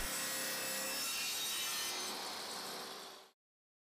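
A wooden board is sawn with a guide, producing a loud, steady, close rasping stroke that runs for about three seconds before cutting off abruptly.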